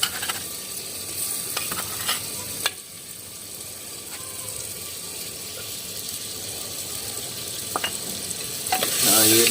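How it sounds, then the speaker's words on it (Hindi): Ginger garlic paste stirred into a frying carrot, potato and pea curry in a pan, a steady soft sizzle with scraping spoon strokes and occasional clinks. "अदरक और लहसुन का हमने पेस्ट बनाया है, इसे बारीक किया हुआ। अब ये डालेंगे इसमें।"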